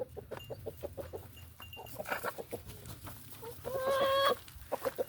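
Backyard chickens cluck repeatedly around feeding time during evening farm chores, with quick, close clucks and a brief louder squawk near the end.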